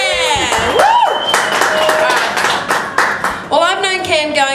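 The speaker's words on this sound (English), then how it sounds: "So let's give her a clap." Party guests clap and cheer for a 25th birthday celebration, with scattered claps and loud whoops and voices up close throughout, a rising shout near the start and another burst of cheering near the end.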